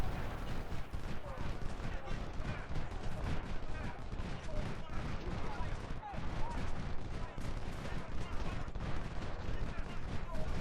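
Rifle fire from Frank Wesson and Maynard cavalry carbines in the Civil War strategy game Ultimate General: Civil War, a continuous crackle of massed musketry and distant artillery rumbling under the battle ambience.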